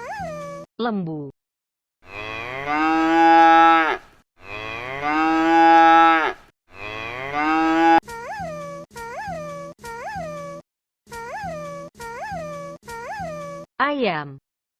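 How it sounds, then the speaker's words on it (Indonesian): A cow gives three long, loud moos up close, with a short call before them and a string of shorter, evenly spaced calls after. "Lembu."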